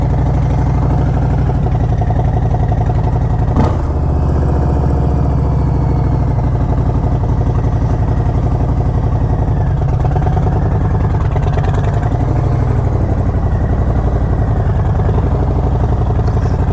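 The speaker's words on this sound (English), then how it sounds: "I'm still riding my motorcycle" Motorcycle ridden through Las Vegas, a loud, close, continuous engine drone that holds steady throughout with no talking over it.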